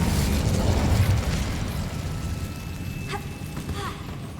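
An Incendio fire spell blasts out in a loud, rushing explosive burst that is strongest at the start and then trails into a roaring, crackling decay.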